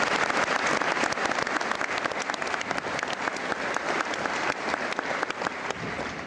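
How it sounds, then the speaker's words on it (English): A crowd at a boys' high school basketball event applauds the team managers with steady, dense clapping that holds at the same loudness throughout. "So let's give them a round of applause as well."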